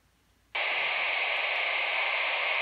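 A brief quiet hum, then loud steady hiss of radio static bursts in and continues unbroken as the squelch is opened on a BaoFeng UV-5R handheld radio.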